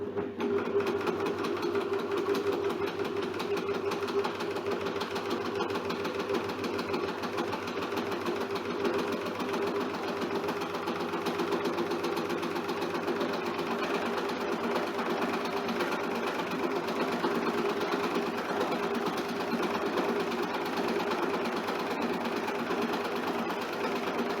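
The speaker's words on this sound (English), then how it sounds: "So sew on the wrong side of your panel, and you can just do a wavy line all the way down." A cover stitch overlocker runs steadily, sewing a wavy line down the wrong side of a zipper bag panel; the fast, even mechanical whir continues close and unbroken throughout, with no talking.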